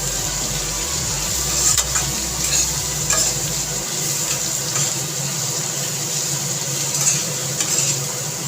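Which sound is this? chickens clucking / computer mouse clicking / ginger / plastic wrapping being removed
ginger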